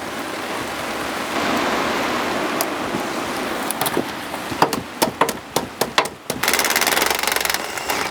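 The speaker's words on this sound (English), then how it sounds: "Watch, it'll stop raining now." Rain falls steadily around a marquee in a broad, even hiss, and sharp, irregular taps and patters of drops break through near the end.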